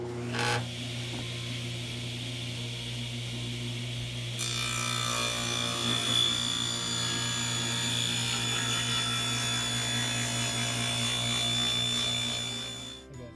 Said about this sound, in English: I'm just going to set this at 3/8 of an inch, and I'm going to cut as many pieces out of it as I can